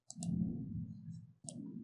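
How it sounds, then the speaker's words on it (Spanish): A computer mouse gives a crisp double click, two quick taps close together, followed after a pause by another sharp click, all near and alone over faint room tone. "Damos doble clic nuevamente para activar encabezado y pie de página"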